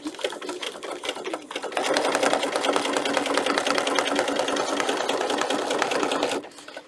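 A sewing machine runs a long continuous stretch of stitching on a fabric book protector, its rapid even whir close and steady for several seconds before stopping, with quieter handling before and after.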